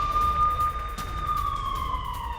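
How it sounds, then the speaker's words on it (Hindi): An air raid siren sounds in Jammu during a drone alert, a steady wailing tone that holds level and then slowly slides downward, moderately loud over a low background rumble. "जम्मू में एयर सायरन बजाए गए"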